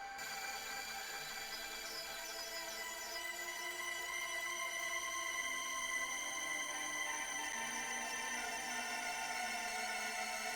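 A dry, shimmering granular synth texture of layered sustained tones with the plate reverb switched off, steady and fairly quiet throughout, with no voice present.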